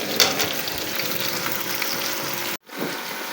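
Okra and onion frying in a pan, a steady, close sizzle that runs almost unbroken before cutting out briefly near the end and then resuming.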